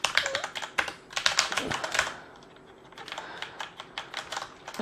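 Rapid clacking keystrokes on a Corsair Vengeance K90 mechanical gaming keyboard, loud and close, in quick bursts with a brief lull midway before the typing resumes.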